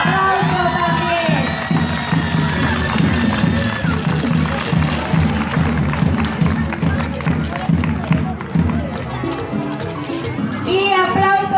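Crowd at a town festival queen pageant vote count for the Divina Providencia fiesta, with clapping and cheering mixed under loud music and excited voices, children shouting among the noisy, busy gathering.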